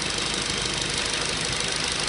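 A VW Golf GTI mk4 engine idles steadily close by, a constant loud rumble with an even mechanical knock and no talking.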